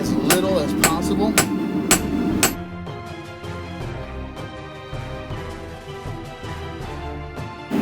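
Hammer blows ring out on a steel Viking seax blade being forged, with several sharp, evenly spaced strikes in the first couple of seconds, followed by quieter workshop noise.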